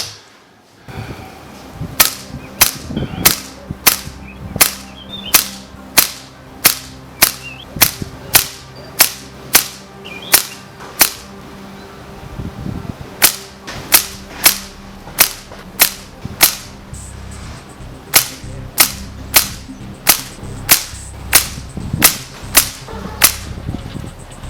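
An FX air rifle firing 23-grain slugs at maximum power, a long series of loud, sharp cracking shots at a steady pace of roughly one every second, close up with short pauses between groups.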